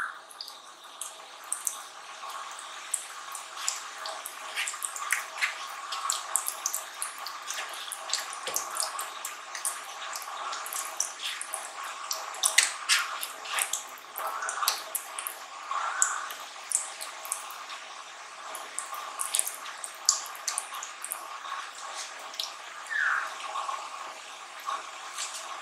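Boiled mango pulp squished and mashed by hand, a steady stream of wet squelching and soft slapping sounds, close and continuous for a long stretch with no voices.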